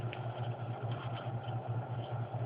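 A blower-fed stove powered by a cellphone battery hums steadily, a small fan's whirring drone with a low pulsing beat and the broad hiss of burning flame, continuous and close.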